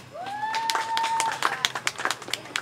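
An audience at an evening panel discussion applauding a guest speaker with short, scattered claps that grow into a sparse patter, along with a sustained tone and some voices.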